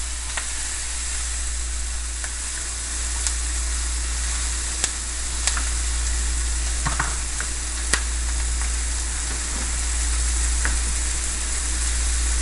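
Onions browning and caramelizing for a liver, onion and marsala dish sizzle steadily in a pan, a constant close hiss with occasional faint ticks and clinks, no talking.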